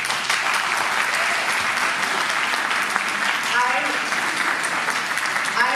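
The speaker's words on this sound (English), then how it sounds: "I also take this opportunity to request all of you to give a big applause to Rajdhani College." Loud, sustained audience applause at a college valedictory ceremony, a dense continuous wash of clapping hands filling the hall throughout.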